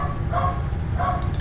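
A dog barks twice from outside, muffled and moderately distant, over a steady low hum.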